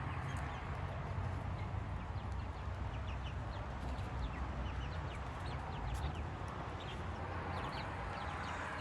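Chickens cluck and mutter softly outside their coop, scattered short calls over a constant low outdoor hiss, faint and distant throughout with no talking.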